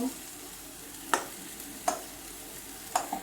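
Vegetables such as pumpkin and papaya being sautéed with ginger paste in a pan, a faint low sizzle with three or four sharp scraping stirs of a spatula.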